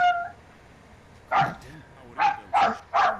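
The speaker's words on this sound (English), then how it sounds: "What are you barking at, Scruffy?" Dog barking in the video game Spacelords, a few short yipping barks in a quick cluster after a brief voice at the start, moderately loud over a quiet game background.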